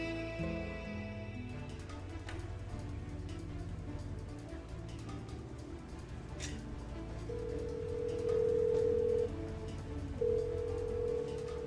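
A telephone ringing out unanswered in a drama scene, heard as a repeating electronic ring tone in short bursts near the end over a bed of background music.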